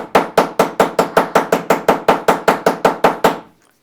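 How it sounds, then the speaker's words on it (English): Steady, evenly spaced metal hammer strikes during a craft demonstration, about sixteen sharp, loud blows in a regular rhythm that stop abruptly, heard alone without talk. "I'm just going to do a touch more hammering."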